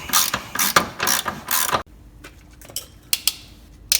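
Ratchet clicking rapidly while loosening a suspension bolt on a Toyota during a camber control arm and figure 8 replacement, a dense burst of metallic pawl ticks followed by a pause and a few isolated clicks, close and alone.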